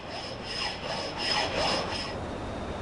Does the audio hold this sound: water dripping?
no